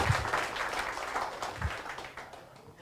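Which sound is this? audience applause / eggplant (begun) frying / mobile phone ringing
audience applause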